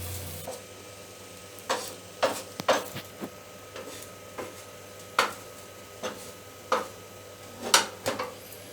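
Bread toast cooking in a pan, a faint low sizzle under a series of light clinks and scrapes from a utensil or the pan, spaced irregularly about once a second, with no voice.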